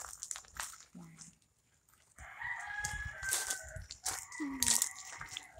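Chickens cluck and a rooster crows nearby in a home yard, with short bursts of fowl calls rising over rustling background noise.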